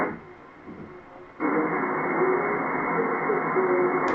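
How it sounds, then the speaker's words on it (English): Shortwave radio tuned to the Shannon Volmet aviation weather broadcast from Ireland on 3413 kHz, a steady hiss of static that jumps louder partway through, with faint voice-like tones buried in the noise. "This is Shannon Volmet out of Ireland on 3413."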